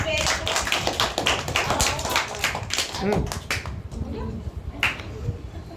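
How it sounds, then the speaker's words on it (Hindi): A group of children clap their hands together in a classroom after a story is told, a dense burst of fast claps running through most of the stretch and easing off toward the end, with voices mixed in. "ताली बजाओ"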